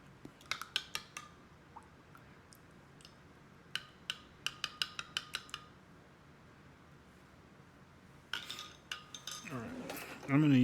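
A spoon stirs sugar into a ground pork stir fry, making sharp metallic clinks and taps against the pan in irregular bursts, fairly close and faint, with quiet kitchen background between strikes.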